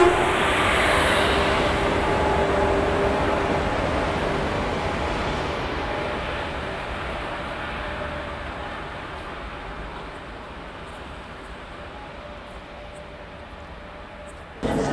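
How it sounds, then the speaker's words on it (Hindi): The Konark Express, running between Mumbai and Bhubaneswar, rumbling into a railway station at night, a loud steady rolling roar that slowly fades over the stretch, with no clear horn. "यहाँ पे कोणार्क एक्सप्रेस आ रही है जो कि मुंबई से भुवनेश्वर के बीच में चलती है।"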